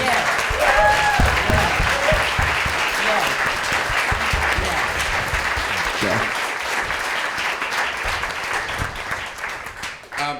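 An audience at a history talk breaks into loud, dense applause, many people clapping close together, with a few voices murmuring underneath as it gradually thins toward the end.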